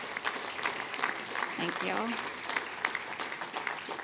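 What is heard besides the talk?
audience applause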